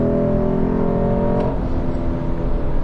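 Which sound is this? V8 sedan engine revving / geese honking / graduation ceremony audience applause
V8 sedan engine revving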